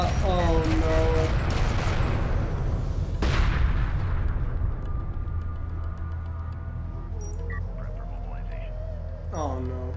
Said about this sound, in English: This turret is actually focus firing the base runner though.